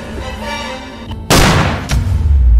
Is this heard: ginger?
no